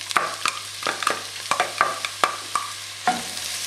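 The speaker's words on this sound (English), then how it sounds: "I have a pound of ground beef here. I'm just going to brown it and drain it and set it aside." Ground beef browning in a little oil in a pan, a steady close sizzle broken by sharp scrapes and clacks of a utensil stirring it at irregular intervals.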